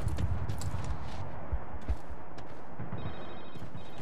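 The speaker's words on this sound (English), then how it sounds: "Cell phone." A cell phone rings during a Medal of Honor mission, a faint repeating electronic tone near the end that sits over thumping footsteps and gear noise.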